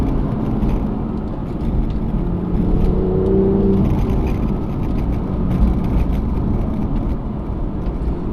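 A BMW M2 with the N55 engine accelerates while driving, heard from inside the cabin as a steady loud engine drone and road roar that rises slightly in pitch through the middle, with no talking.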